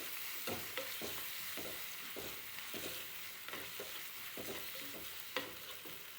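Onions, garlic and curry leaves fry in oil for a plantain and bean stir-fry, producing a faint, steady sizzle with regular soft stirring scrapes and no talking.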